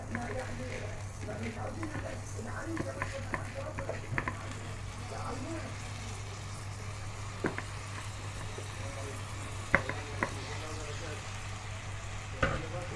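Rice sizzles in a pan while it is stir-fried, with intermittent scraping and clinking against a low steady hum, and a voice speaks at times over the frying.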